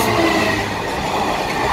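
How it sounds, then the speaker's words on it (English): A long, loud train rumbles past a railway crossing close by, a dense continuous roar of wheels and carriages with faint rhythmic clatter and no break in the noise. "That was a really long, really loud train."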